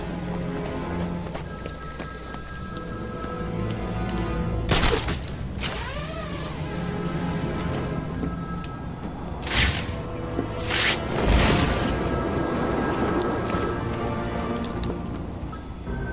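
A telephone rings inside the Batman: Arkham City video game, its bell tones repeating over dense game music and effects at steady moderate loudness.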